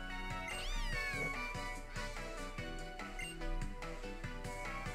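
Litten, the fire-type cat Pokémon, gives its cry in Pokémon Ultra Moon: a short synthesized meow that bends up and down, set over steady game background music.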